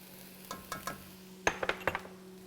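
Quiet clinks and scrapes of a spoon stirring garam masala, ginger and garlic in a pan, a few separate strokes with a faint background hum.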